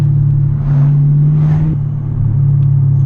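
A 2020 Chevrolet Camaro SS V8 revs up and settles back, a loud, close, deep engine rumble that swells twice before dropping to a steady idle.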